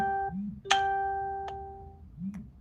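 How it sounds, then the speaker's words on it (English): A phone sounds a series of electronic notification chimes, four ringing tones about a second apart with bright sustained overtones, over a low background rumble. "All these damn notifications."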